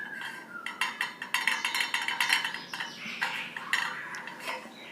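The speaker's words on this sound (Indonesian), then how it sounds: "Ketika kita taruh panci pada posisi tengahnya atau wajan pada posisi tengahnya, biasanya bentuknya itu agak ulang-alik lah kayak gini guys." A pan rocks on the loose grate of a Linea GMK 73 2G built-in gas hob by Teka, giving a close run of bright metallic clinks and rattles in uneven bursts with no talking.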